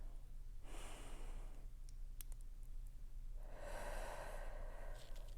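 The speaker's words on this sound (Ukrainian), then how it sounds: "І зробіть, будь ласка, ще раз вдих." A person drawing a deep breath during a relaxation exercise, with two soft, close airy inhalations separated by a quiet pause over a low steady hum.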